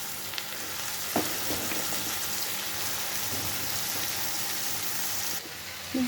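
Bitter gourds frying in a pan of cooked-down spice paste with ginger, a steady, dense sizzle heard up close that runs evenly throughout and then shifts briefly near the end.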